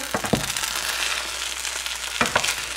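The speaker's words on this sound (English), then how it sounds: "we're going to go ahead and remove it and give our rice a stir" Loaded vegetable fried rice sizzles steadily in a hot pan while a utensil scrapes and stirs it, with a few knocks near the start and again near the end.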